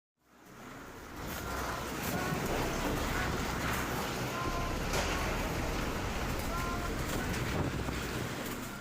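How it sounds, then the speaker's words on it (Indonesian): Tornado-force wind tears through the Mekar Saluyu area of Cimenyan, Bandung Regency, on a Sunday evening. It is a constant loud roar and buffeting rush that rises within the first second and holds steady. "angin kencang menerjang kawasan Mekar Saluyu, Kecamatan Cimenyan, Kabupaten Bandung pada Minggu petang"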